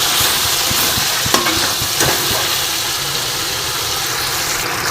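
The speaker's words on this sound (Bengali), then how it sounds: "ভালো করে মশলাটা কষিয়ে নেবো" Masala paste with turmeric, salt and a little sugar sautés in a pan, a dense steady sizzle with occasional stirring scrapes and clinks, close and loud throughout.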